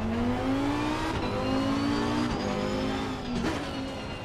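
A Lamborghini GT race car in Assetto Corsa Competizione's 2023 GT World Challenge holds a steady, loud engine drone that rises and dips through gear changes, with brief shifts and no voices over it.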